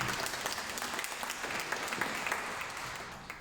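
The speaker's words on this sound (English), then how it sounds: "I think that deserves a round of applause." A round of applause rises from an audience at a property-business panel event, dense steady clapping that holds for a few seconds and thins slightly toward the end, with no voices heard.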